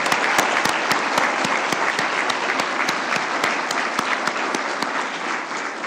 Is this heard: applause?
yes